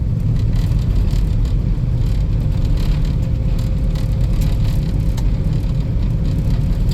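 A 1991 Dodge Caravan on the road, its engine newly revived after sitting for over 19 years, gives a steady low rumble and whir of driving with constant road noise and no voices.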